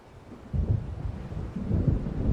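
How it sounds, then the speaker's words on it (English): Thunder from an approaching storm in the Alan Wake video game rolls in as a deep, loud rumble that surges after a quiet start and swells again near the end, with a faint hiss like rain, no voices. "It seems there's a storm coming."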